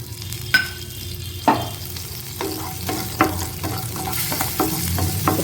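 Eight small cut garlic cloves sizzle in oil in a kadai, with a steady frying hiss throughout and sharp scraping clicks from stirring at irregular intervals, close by and with no talk.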